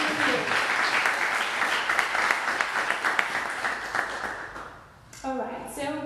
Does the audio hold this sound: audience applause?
yes